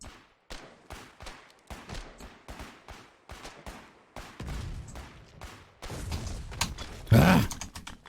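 Gunfire in the war game Foxhole, a rapid run of sharp, separate shots growing louder into a heavier burst near the end, with a voice heard briefly.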